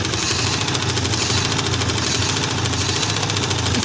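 A sewing machine stitches fabric for trousers, running as a loud, continuous, even motor drone with a fine rapid mechanical chatter, close and unbroken throughout.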